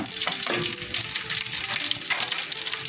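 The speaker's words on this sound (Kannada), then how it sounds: "ಇದಕ್ಕೆ ಮೊದಲಿಗೆ ಒಗ್ಗರಣೆ ಹಾಕೋತಾ ಇದ್ದೀನಿ. ಸಾಸಿವೆ, ಸ್ವಲ್ಪ ಜೀರಿಗೆನ" Mustard seeds and cumin sizzle in hot oil for a tempering, a steady crackling fry close up with occasional clinks and scrapes of stirring.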